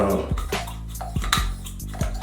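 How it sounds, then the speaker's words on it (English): A mist spray bottle filled with water and a little oil is pumped, giving a handful of short, sharp hissing sprays in an uneven rhythm, close and fairly quiet. "I got some water and a little bit of oil in this mist spray bottle. All you gotta do is pump it up"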